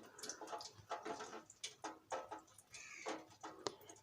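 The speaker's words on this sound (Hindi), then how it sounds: "वाटर इसमें देख लें डाल रही हूँ।" Water is poured over a swatch of eyeliner to test it, making a faint, close trickle with scattered drips and splashes.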